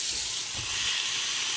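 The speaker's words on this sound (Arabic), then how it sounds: "نشوي مزيان هاد الدجاج هذا" Chicken breast sizzles steadily in a hot pan for taco filling, a continuous close hiss with no talk over it.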